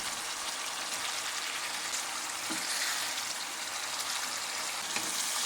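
Dhania chicken with fresh coriander leaves and green chilli paste is stirred in a hot pan, giving a continuous close sizzle and soft scraping with a few faint knocks.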